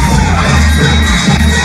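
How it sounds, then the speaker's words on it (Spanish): A loud audience at the Mister Chile 2023 pageant final cheers and shouts for a contestant, a dense, roaring crowd with whoops and high yells, steady and close throughout. "Recibimos con un fuerte aplauso a Juan Guilleret."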